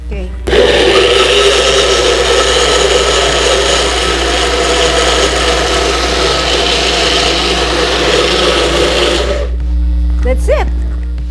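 A blender purees cooked squash soup with a loud, steady whirring roar that holds for about nine seconds and then cuts off, leaving quieter kitchen sounds behind.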